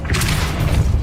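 A Depulso spell is cast in Hogwarts Legacy, a short, deep magical boom with a rushing burst, close and loud, lasting about a second.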